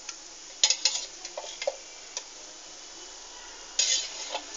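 Green chillies fry in a little oil, giving a soft, steady sizzle with intermittent light clinks and scrapes of a utensil against the pan, fairly close and without talk.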